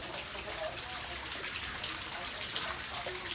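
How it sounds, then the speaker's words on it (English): A small waterfall splashes and trickles in the back corner of a backyard porch bar, a soft continuous watery wash heard faintly with a few brief drips. "we actually have a waterfall."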